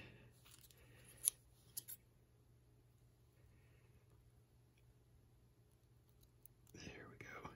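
Scissors snipping old tape on a 50-year-old tape recorder, a few faint crisp cuts early on in a quiet room, with soft whispered talk and a voice near the end.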